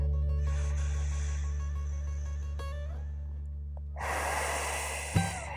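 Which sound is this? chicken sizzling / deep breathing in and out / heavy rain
deep breathing in and out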